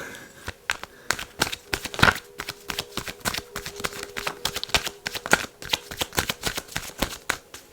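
Tarot cards shuffled by hand, a long run of crisp riffling snaps and soft slides with irregular rhythm, close and clear with no talk.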